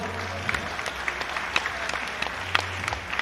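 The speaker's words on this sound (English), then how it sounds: "please give these two fighters another round of applause" A fight-night crowd at a combat sports event applauds the two fighters, a steady, fairly distant clapping texture with a few sharper claps standing out and a low hum underneath.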